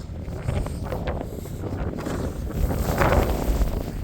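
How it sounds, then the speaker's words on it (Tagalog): Strong wind buffets the microphone in a steady, roaring rush, swelling louder toward the end, with no voices. "Lakas ng hangin"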